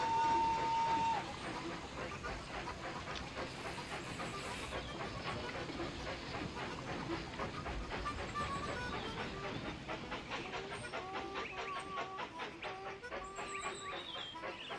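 A steam train running in Railroad Tycoon 3, with a steady rumbling run and a rapid rhythmic clickety-clack of wheels over rail joints that holds at an even level throughout.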